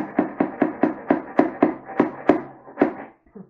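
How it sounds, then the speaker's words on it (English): A hammer striking a wooden beehive box being built, about a dozen evenly spaced sharp knocks in a steady rhythm, close and loud, trailing off into a few softer sounds at the end. "So, I have this hammer here just to kind of make sure everything."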